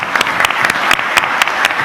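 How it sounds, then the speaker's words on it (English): Steady applause from an audience at a closing event, dense clapping filling the whole moment with no talking. "I invite you all to give a big applause to Christophe and his team"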